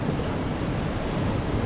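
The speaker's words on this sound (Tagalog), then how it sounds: "nagagalit ng dagat" Rough sea surf crashes and roars steadily without a break, loud and broadband, with wind buffeting the microphone; no one speaks.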